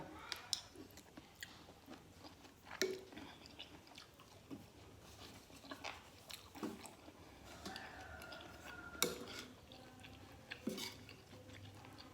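Someone eating spicy bamboo shoot curry chews and bites close to the mic, with soft irregular crunches, slurps and occasional clinks of a spoon on a dish, all fairly quiet.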